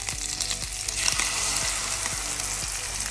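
Reconstituted freeze-dried eggs fry in a pan, a loud, dense crackling sizzle running throughout with faint regular ticking underneath, close and with no one speaking.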